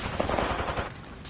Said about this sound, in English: The enemies are shooting me.